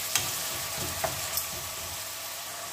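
Onions with salt frying and being stirred in a pan over medium-low gas for a green tomato and small fish curry, giving a steady soft sizzle with a few light clinks of a spoon against the pan, no talking.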